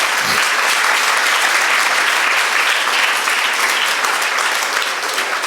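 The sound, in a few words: loud audience applause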